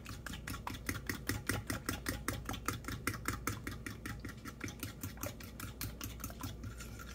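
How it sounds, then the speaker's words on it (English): A spoon stirs semi-homemade macaroni and cheese mixture in a quick, steady rhythm, each scrape and clack regular and close, quiet and alone with no talk. "I'm going to stir that up real good."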